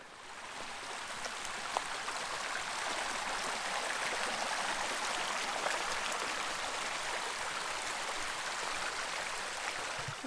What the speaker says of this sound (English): This here is Steel Creek, the creek that gives the campsite its name.